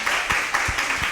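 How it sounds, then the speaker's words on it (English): An audience at a science diversity talk claps after a session, a sustained blend of many hands with a few louder claps standing out, moderately close and with no talk over it. "And they're clapping for"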